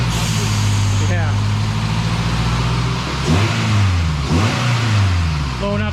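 A Honda Integra with a B20V engine revs hard and loud to blow out carbon, its pitch climbing and falling through several pulls and gear changes.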